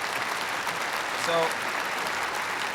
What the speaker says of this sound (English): sure, you could give him an applause